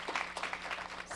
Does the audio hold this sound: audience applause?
yes